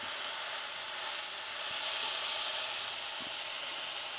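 Hamburger patties sear in a pan on low heat, giving a steady, quiet, broadband hiss of sizzling fat that holds evenly throughout with no voices.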